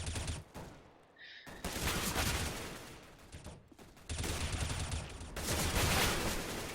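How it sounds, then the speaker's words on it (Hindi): Bursts of automatic gunfire in a Counter-Strike match between FlipSid3 and Selfless, with rapid overlapping volleys coming in clusters separated by brief lulls, at moderate loudness. "यहाँ पे मार्क के अपने शॉट्स मिस करते हैं।"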